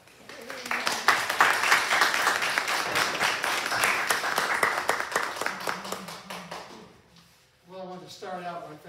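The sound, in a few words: audience applause welcoming Rex Rideout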